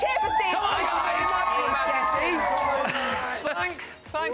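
A crowd of kids cheering and shouting for Steve on a Saturday TV show, loud, excited overlapping voices that keep going before dipping at the end.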